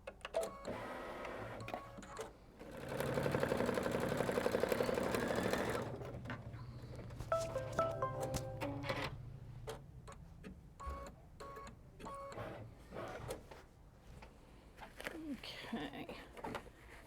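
An embroidery machine runs a tack down stitch on quilt fabric in a hoop, a close rhythmic mechanical whir and clatter with starts and pauses, and a voice speaking briefly between bursts.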